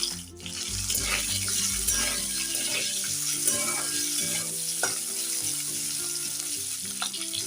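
Capsicum and whole garam masala spices (cinnamon, cardamom, cloves, caraway) sizzling in hot oil for matar paneer, a steady close frying hiss with stirring clatter and scraping throughout.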